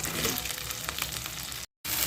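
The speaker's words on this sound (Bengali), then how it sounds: "টমেটোগুলো দিয়ে ভালো করে ভাজতে হবে" Chopped tomatoes fry in hot oil for a vegetarian aloo kosha, giving a loud, steady crackling sizzle that cuts out for an instant near the end and then resumes.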